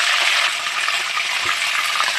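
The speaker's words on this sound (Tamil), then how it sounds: "நல்லா பொரிஞ்ச உடனே கருவேப்பிலை போடணும்" Curry leaves frying in hot oil for a spicy Kanthaari chicken, a dense, bright crackling sizzle that runs steady and close throughout, with a small stir-like knock partway through.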